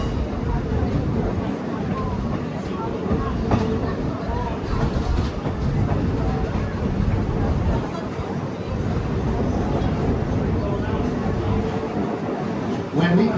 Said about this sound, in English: That's a long line of tank cars, huh?